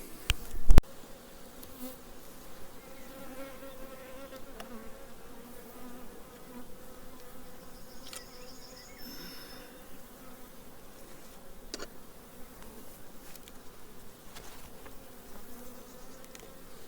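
Carniolan honey bees hum around their hives outdoors in cool spring weather, a steady soft drone of many wings with individual bees occasionally passing closer, after a brief knock at the start.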